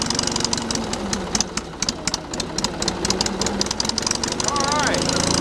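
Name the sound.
engine starting and idling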